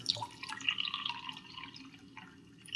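Small leftover water drops drip into a glass for tea, a few faint, close trickles and plinks in a quiet room.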